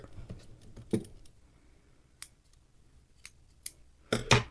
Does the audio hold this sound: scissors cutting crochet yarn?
yes